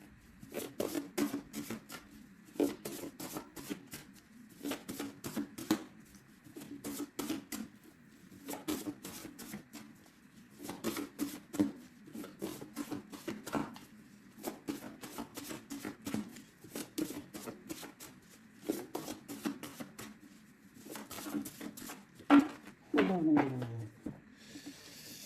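Tarot cards being shuffled and cut, giving repeated bursts of crisp riffling and slapping in an irregular rhythm, fairly close and moderate in level, with quiet background hum between the bursts.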